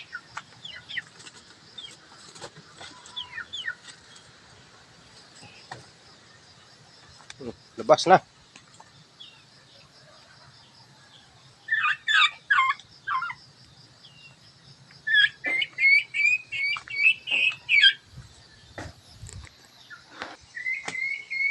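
A chicken let out of its cage clucks and squawks loudly in repeated bursts, with a flap of wings, while a person talks to it between calls.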